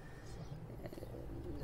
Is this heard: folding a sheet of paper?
no